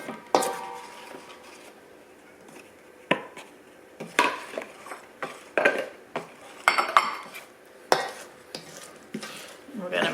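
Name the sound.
mixing sifted flour into liquid muffin mixture in a bowl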